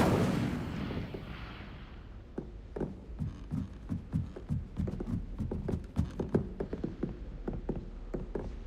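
A fire spell cast in the Hogwarts Legacy video game, heard as a series of sharp, repeated bursts and cracks in an irregular rhythm, fairly close and loud, with no talk over them.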